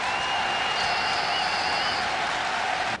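At the Tokyo Dome, a huge baseball crowd roars and applauds Hideki Matsui during game seven of a Japan–US series: a constant, dense stadium swell with a thin whistle-like tone riding above it.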